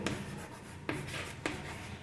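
Pen scratching across paper as measurement units are written out by hand, with steady continuous strokes broken by two sharp taps or lifts, close and fairly quiet.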